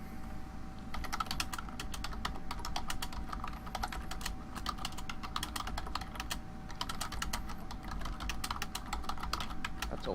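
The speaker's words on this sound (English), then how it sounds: "That's a lot of typing." Fingers type quickly on a computer keyboard, with dense clusters of clicking keystrokes over a low steady hum. Keystrokes come in bursts with brief pauses between them.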